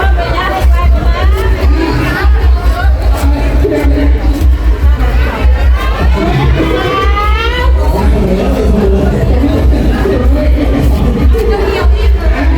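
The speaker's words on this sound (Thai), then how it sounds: "มางานกีฬาสีนะคะ ทุกคนเสียงก็เลยจะเป็นเสียงเชียร์กีฬา แทรกเข้ามานะคะ" A crowd at a school sports day cheers and chatters continuously in the distance, a dense steady babble with occasional whoops throughout.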